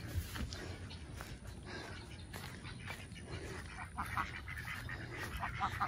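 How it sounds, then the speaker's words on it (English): Ducks call in a farmyard beside a gate, their quacks and honks scattered and fairly close over steady outdoor background noise, with no talk. "Oh, them ducks are going in if I don't watch out."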